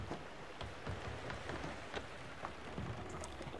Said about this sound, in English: Luckily it's rain, so we don't have to water the plants.